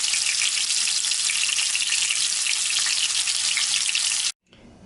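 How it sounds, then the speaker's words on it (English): Two breaded beef cutlets fry in a pan with a steady, loud, bright sizzle that holds evenly for over four seconds before cutting off abruptly. "Here we have two beautiful pieces of fried breaded beef cutlets"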